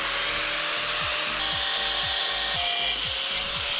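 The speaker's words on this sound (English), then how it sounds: "except I'm going to have to trim a bit off here so that that matches." A shower wall tile being trimmed with a power tool, a loud continuous grinding whine with a rhythmic pulsing beneath it, close and steady throughout.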